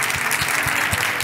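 Audience at a business school graduation ceremony applauding the graduates: a brief, loud, dense burst of many hands clapping, steady and close, with no talk.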